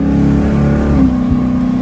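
A car launches at half throttle on a race track, its engine holding a loud, steady mid-pitched drone and then shifting up in pitch as it pulls away.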